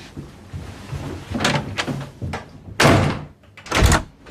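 A door is shut with heavy thuds during a tense indoor drama scene, two loud slams landing close together after softer knocking and handling sounds, with no talk over them.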